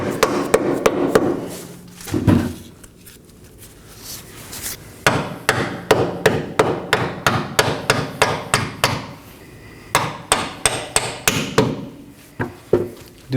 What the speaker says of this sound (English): Hit it with the rubber mallet if you have to again.